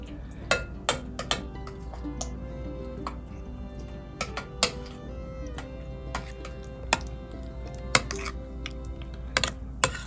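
Cayenne pepper being stirred into a pimiento cheese mixture in a bowl, giving a quiet, irregular run of light clicks and clinks from the utensil against the dish over a low steady background hum.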